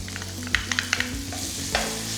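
Tomato and a small piece of cinnamon sautéing in oil, a close, steady sizzle broken by a few sharp spatula clicks and scrapes against the pan.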